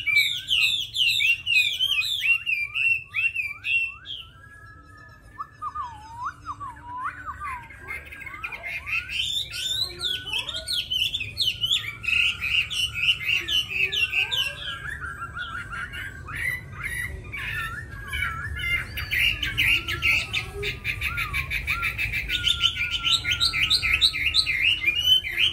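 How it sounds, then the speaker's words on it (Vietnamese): A Chinese hwamei songbird sings long, varied phrases of loud whistles, trills and sharp squawking notes, close and continuous over a low background hum. "rất mau mỏ, rất là dễ hót và giọng ca rất là hay"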